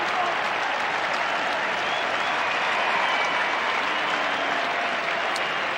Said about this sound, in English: And I would suggest Justin Blumfield will get a very warm round of applause as he comes off first goal.